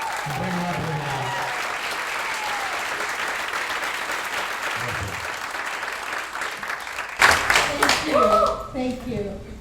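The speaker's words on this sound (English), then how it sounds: "So one more round of applause for Nancy." Audience applause at an evening tech and homelessness fundraising event, a steady broad wash of clapping that swells louder near the end, with cheering voices and talk mixed in over it.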